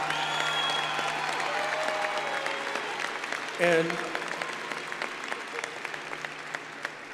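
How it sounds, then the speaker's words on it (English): An audience applauds at the Community College of Denver 2019 commencement ceremony, with dense, continuous clapping filling the hall and a single word spoken partway through. "Could you join me in giving her a rousing round of applause?"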